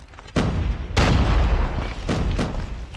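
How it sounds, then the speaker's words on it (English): Smoke grenades popping and hissing in a Call of Duty Mobile hardpoint match, two loud broadband bursts around the first second followed by sustained rushing noise and two softer bursts near the end. "Throwing smoke grenades."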